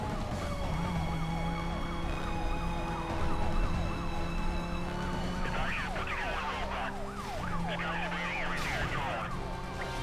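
Police car sirens wail in repeated rising and falling sweeps during a chase in Need for Speed: Most Wanted (2005), loud and layered over a steady engine drone.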